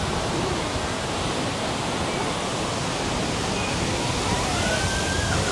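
The Grizzly River Rapids raft ride at Disney California Adventure, its water rushing and churning as a dense, loud, continuous roar close by with no voices.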